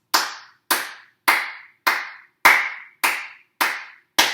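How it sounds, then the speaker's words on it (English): A single person claps hands in a steady beat during a rhythm lesson for young children, eight crisp, evenly spaced claps, each with a short ringing tail, close and clear with no other sound. "How about when we clap hands?"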